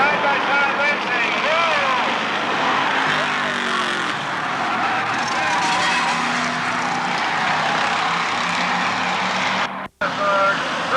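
Street stock race cars skid and spin out during a feature race on a short track, with loud continuous engine roar and tire squeal close by, and a voice talks over the action.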